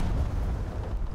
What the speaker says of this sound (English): P8 explosion right there.